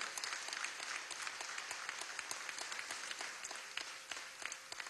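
Sustained applause from attendees at a government council meeting, steady dense clapping heard from a distance and fairly faint, continuing evenly throughout.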